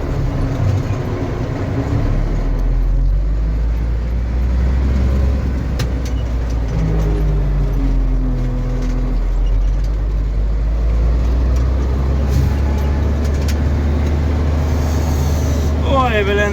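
A K-701 tractor drives along, its engine a steady deep drone with a continuous low rumble close by and some clattering, while someone speaks over it at times.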